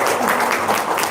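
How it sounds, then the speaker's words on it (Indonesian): Audience applause in a comedy show, a steady dense wash of many hands clapping that holds at the same level for the whole moment. "Tepuk tangan dong."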